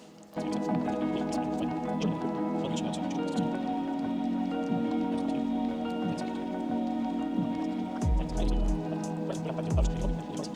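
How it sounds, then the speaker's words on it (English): Heavy, thick eggless tiramisu ingredients are worked with a wooden spoon in a bowl, giving continuous wet squelching and soft scraping with steady dripping squishes throughout, close and fairly full, with a couple of low thumps near the end. "Since all the ingredients are pretty heavy and pretty hard to mix, I'm using a wooden spoon now."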